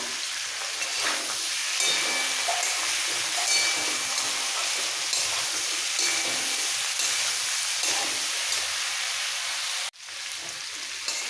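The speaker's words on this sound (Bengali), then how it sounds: "একসাথে খুব ভালো করে একটু কষিয়ে নিতে হবে ভালো করে সমস্ত সবজি" Vegetables sauté with ginger paste and green chilli paste in a hot pan, giving a steady broad crackling sizzle that continues until a sharp knock and brief drop near the end.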